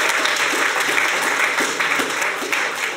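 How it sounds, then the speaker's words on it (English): A school audience at Stoke High gives a panel a steady round of applause, with dense continuous clapping from a crowd filling a hall for the full stretch. "I need a round of applause, please, for our panel."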